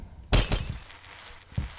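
Glass shatters loudly in the Happy Wheels game, a sharp crash followed by tinkling fragments that fade, with a second thump near the end.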